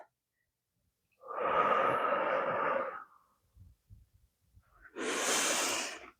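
Two strong, close breaths during a Pilates exercise, a long airy inhale and a later sharper exhale, with faint rustling in the quiet gap between them.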